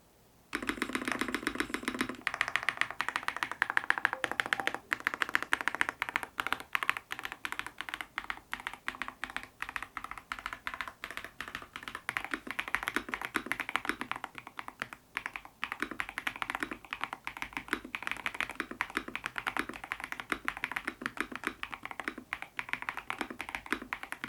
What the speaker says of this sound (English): Let's hear how the Mint Mambo linear switches actually sound.